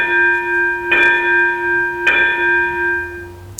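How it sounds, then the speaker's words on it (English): A bell rings loudly with a sustained, ringing tone during a lesson, two clear strikes about a second apart each followed by a long humming decay, with no talk over it. "wow, sorry about the bell."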